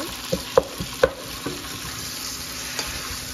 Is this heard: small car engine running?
no